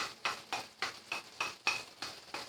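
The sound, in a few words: mixing shrimp paste into Bicol Express in pan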